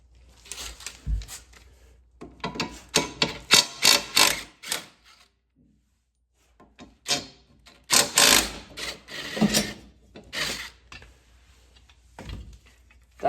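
A ratchet works the 14 mm bolts holding the blades on a dual-blade lawn mower, giving bursts of rapid clicking and metallic scraping separated by short pauses.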